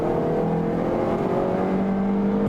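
A 2020 Toyota Corolla's 2-liter four-cylinder engine accelerates in a steady, fairly loud hum with a gradually rising tone and road noise from inside the car, no talking heard.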